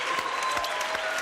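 Studio audience applauding on a French television entertainment show, a steady, dense burst of clapping filling the room for a moment.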